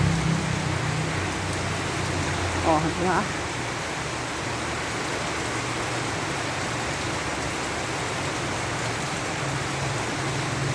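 Steady, dense hiss of rain falling, continuous throughout, with a brief voice speaking early on.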